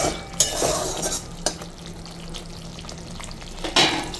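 Oil sizzles and fries steadily in a pan during home cooking, a continuous crackling hiss with a few sharper spikes and stirring clatters, close and moderately loud with no talking.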